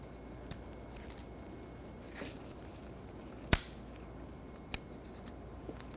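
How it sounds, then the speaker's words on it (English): A wiper blade snaps onto the wiper arm of a 2015-2024 Jeep Renegade with one sharp, loud plastic click, framed by a few fainter handling taps and rustles in a quiet space. "and then push it forward and click."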